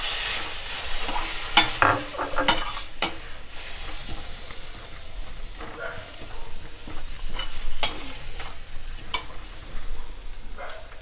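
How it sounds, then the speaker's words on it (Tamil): Rice flour batter and grated bottle gourd being sautéed in a pan, with frequent irregular scraping strokes from a spatula over a continuous sizzle, close and steady, with no talking. "அதுவும் இதோடு சேர்த்துக்கிட்டு வதக்கிக்கலாம் கொஞ்சம் நேரம்."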